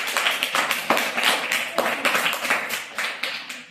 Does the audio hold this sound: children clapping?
yes